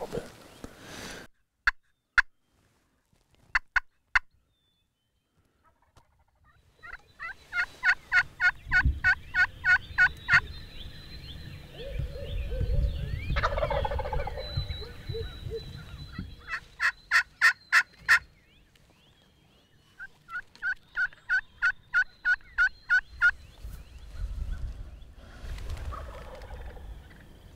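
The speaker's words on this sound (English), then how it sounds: "three hens that are just causing a ruckus about 150 yards in the field" Wild turkey hens in a field about 150 yards off, calling and gobbling in repeated rapid bursts of sharp clucks and yelps, with low rumbling stretches between. The calls are moderately distant and carry with no talk over them.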